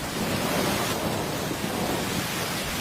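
Steady downpour of cartoon rain, a dense even hiss with a low rumbling undertone, continuous and fairly close with no voices.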